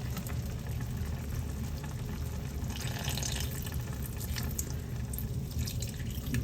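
Vinegar is poured into a pot of garlic pork adobo cooking over medium-high heat, giving a steady liquid rush with light sizzling and bubbling throughout.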